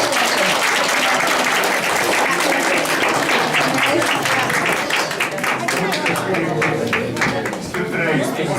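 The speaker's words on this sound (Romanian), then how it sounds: "Hai să primim cu aplauze!" A crowd at a winter holiday celebration loudly applauds the arrival of Santa Claus with dense, continuous clapping throughout, while voices talk and shout over the applause.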